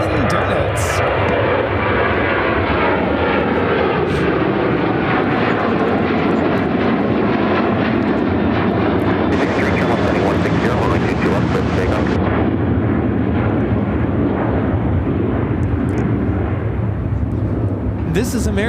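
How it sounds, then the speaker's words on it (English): An American Airlines Boeing 737-800 takes off from Chicago O'Hare bound for Miami, its loud, steady jet roar filling the whole stretch with a broad rumbling blast that holds strong throughout, with a voice speaking over part of it. "1511 taking off to Miami on the 737-800."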